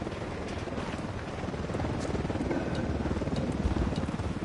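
An enemy helicopter in the Ghost Recon Wildlands video game flies overhead, its steady thudding rotor and engine roar filling the scene at constant loudness, growing slightly stronger toward the end with no talk.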